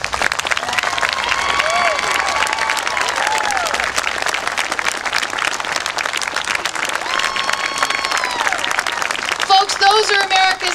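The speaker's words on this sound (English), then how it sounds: "would you please stand up so we can give you a huge round of applause?" Loud, sustained applause from an audience honoring military veterans, with dense clapping and some cheering throughout, and a voice speaking over it near the end.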